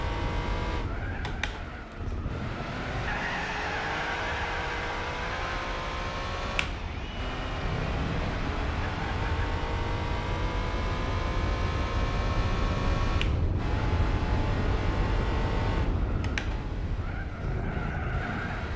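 Car engine revving continuously in a Gran Turismo 4 race, with hard braking and tire skidding through corners, steady and loud for the whole stretch with brief gear-shift breaks.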